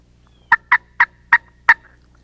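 Five sharp, evenly spaced turkey calls from a hunter's call imitating a hen's cutting, loud and close with no talk, ringing out in a quick clipped burst.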